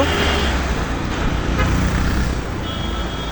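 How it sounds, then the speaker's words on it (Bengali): Busy road traffic crossing a bridge in Savar, Dhaka: a steady, dense roar of passing cars and trucks with a few horn toots rising above the rumble. "ব্যস্ত সড়ক অনেক গাড়ি এখানে চলাফেরা করে"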